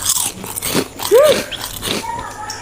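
Someone bites into and chews a grilled egg at a farm, a few soft crunchy bites and mouth sounds close by, with a person's voice murmuring briefly.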